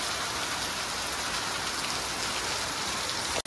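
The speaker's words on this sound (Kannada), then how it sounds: "ಈಗ ಇಷ್ಟು ಮಳೆಗೆ" Steady, dense rain falls close by, an even unbroken hiss of drops on surfaces throughout.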